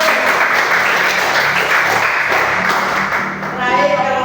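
Applause from a class of students after a group presentation, steady dense clapping filling the room throughout with some voices mixed in, fading slightly near the end.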